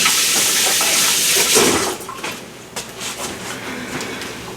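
Tap water runs steadily as hands are rinsed under it in a home kitchen, a broad even hiss that is loud at first, then drops a little lower and continues with small splashy fluctuations.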